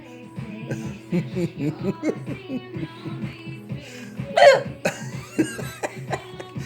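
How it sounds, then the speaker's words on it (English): Repeated hiccups from a woman, sharp vocal catches in an irregular run, close and fairly loud, with one stronger squeaky burst midway and a few laugh-like sounds mixed in. "What is the origin of these hiccups?"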